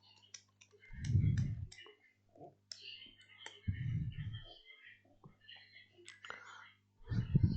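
A computer mouse gives light, scattered clicks while a person talks softly, almost in a whisper, throughout.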